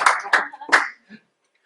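A few sharp claps from a classroom group, three quick bursts followed by a faint trailing clap before silence.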